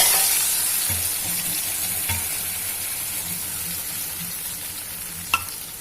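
Ground pineapple paste cooking in ghee and stirred, a soft even sizzle with faint rhythmic scraping and a single sharp clink near the end.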